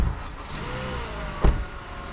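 A new Honda car's engine idles quietly and evenly nearby after starting, with a soft hum, a brief thump midway, and no talk.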